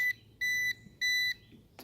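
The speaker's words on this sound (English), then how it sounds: "And you hear it beeping until it connects." Electronic beeping from a Ruko F11 Pro drone controller while connecting: a short beep followed by two longer, evenly spaced high-pitched tones, clear and close in a quiet room.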